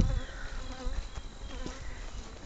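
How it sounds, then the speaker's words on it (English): Dense, continuous buzzing of many honey bees flying close by outside a strong beehive, a steady droning hum with no voices. "When the bees fly out,"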